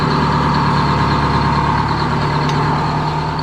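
A boat engine runs at a steady idle during a sea trial, a loud, close, even drone with a constant low hum and no change in pitch throughout.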